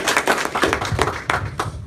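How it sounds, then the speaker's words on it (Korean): Applause from a small audience at a business training seminar, with distinct, fairly close hand claps in a loose, uneven rhythm rather than a dense roar. "우리 인정 팀장님께 큰 박수 부탁드립니다"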